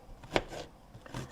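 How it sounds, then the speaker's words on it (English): Half an onion being chopped with a knife gives a single sharp, close chop, followed by softer scraping knife contact on the board, quiet and brief. "we're going to chop up a half an onion"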